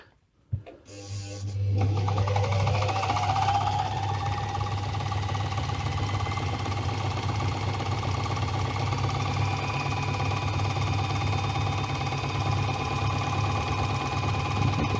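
Singer 460K overlocker stitching, a close, steady mechanical whir with a rapid rattling hum that starts after a brief click and runs evenly without pause, with no talk.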